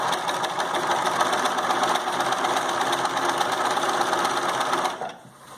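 A sewing machine runs steadily, stitching a fabric casing, its fast even mechanical whir continuing for about five seconds before stopping abruptly; no talking.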